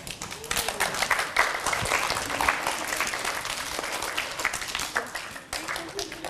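Children applaud together after a poetry recital for kids, a dense, steady clapping that fills the room for several seconds and thins slightly near the end, with faint voices underneath.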